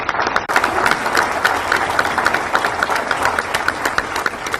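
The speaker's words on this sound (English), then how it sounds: "How about a round of applause for these folks?" A roomful of people at a Bastrop community luncheon breaks into loud, steady applause, many hands clapping close and continuous after one abrupt opening burst.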